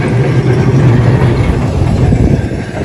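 A heavy, low rumble of a tram rolls steadily past at close range along the Blackpool seafront, with a constant mechanical drone and no voices.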